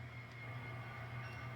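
An N scale model train reverses, rumbling slowly and steadily with a low, continuous drone, no distinct clicks or squeals, moving at a creeping pace.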